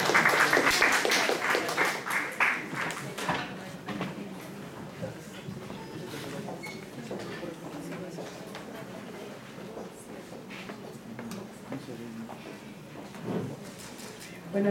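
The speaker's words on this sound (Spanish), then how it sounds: "Un fuerte aplauso, por favor," An audience applauds a speaker at a university project presentation. The clapping is dense and fairly loud at first, then thins and fades over several seconds into quieter room noise and voices.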